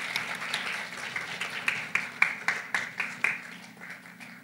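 Audience applause in a conference hall closing a talk on advancing women in global hiring: a soft, steady patter with a few sharper claps standing out, fairly quiet and fading toward the end.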